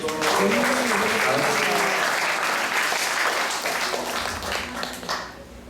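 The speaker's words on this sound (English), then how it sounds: "Let's give a round of applause for him." A temple congregation at an ISKCON Sunday class in Atlanta applauds steadily and loudly, with some voices mixed in, before the clapping tapers off at the end.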